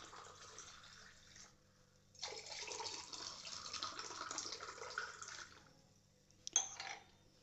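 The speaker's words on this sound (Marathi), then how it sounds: "पाणी मिक्स करायचे हवं तेवढं आपल्याला" Water is poured from a tap or jug into a glass to mix mint sherbet, a soft early trickle followed by a longer steady pouring splash, then a brief clink and short final pour, fairly faint and without talk.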